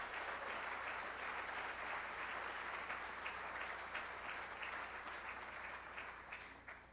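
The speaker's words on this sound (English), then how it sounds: "So we can just give a round of applause for the community as a whole." At Montgomery College's 2024 spring closing meeting, an audience applauds the college community. The clapping is steady and continuous from start to finish, fairly distant and soft, and it thins slightly toward the end.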